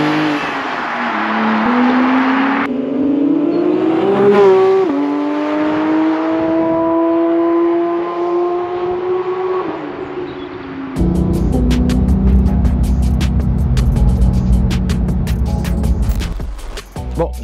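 A Porsche 911 Sport Classic with sport exhaust revs and accelerates close by, its engine note rising through gears before a rougher, louder burst of exhaust crackle and roar.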